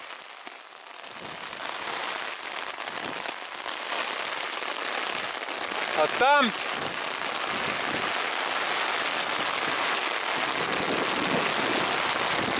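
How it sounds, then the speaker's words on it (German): Hail pelts down during a bicycle tour in Sweden, a dense, steady patter that fills the whole stretch, with one short shouted exclamation near the middle. "Scheiße, es hagelt!"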